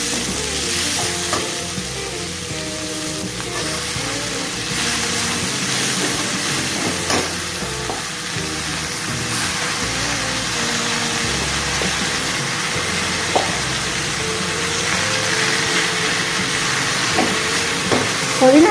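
Mint leaves and onions sauté in a pan for mint chutney, a continuous close sizzle and hiss with occasional clinks and scrapes of stirring, no voices present.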